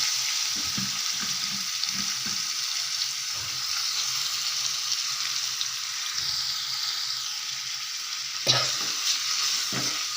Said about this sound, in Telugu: ఇప్పుడు అదే కడాయిలో కొంచెం ఆయిల్ వేసి మనం ఆకు కడిగి పెట్టుకున్నాం కదా అటుకే మామిడి ఆకు ఇది కూడా వేసుకొని మగ్గించుకోవాలి